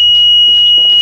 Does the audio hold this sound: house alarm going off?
yes